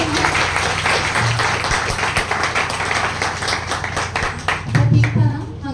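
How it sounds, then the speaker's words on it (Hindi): Audience clapping welcoming an actor-producer at a poetry and music open mic, a steady ragged patter for several seconds with a few sharper individual claps and murmuring voices near the end. "एक बार जोरदार तालियों से स्वागत करेंगे।"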